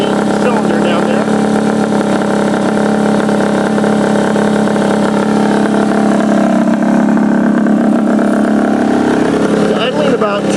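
A Honda DIO motor scooter engine with a stock 28 mm carburetor idles steadily and loudly up close, a continuous buzzing drone that wavers slightly in pitch partway through.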